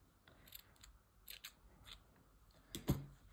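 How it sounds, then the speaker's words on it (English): Scissors snip through crochet yarn, a few quiet clicks and cuts close by, ending in one sharper snip, with no one talking. "we can cut our yarn"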